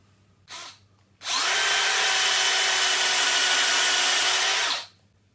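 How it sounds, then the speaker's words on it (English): An electric drill with a 12mm bit whirs briefly, then runs continuously at high speed for about three and a half seconds, boring steadily before spinning down. "Now we're up to a 12mm drill."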